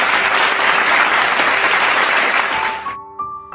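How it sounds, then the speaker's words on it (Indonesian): Cheering and applause fill a university hall for a few seconds, dense and close, then cut off abruptly, leaving a faint tonal hum behind. "Sorakan tepuk tangan terdengar"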